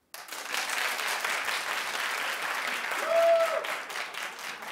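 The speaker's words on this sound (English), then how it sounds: "Clap if you still need him to say something." Studio audience on a daytime talk show breaks into sustained applause, a dense broadband wash of clapping that swells slightly near the end and carries on without a break.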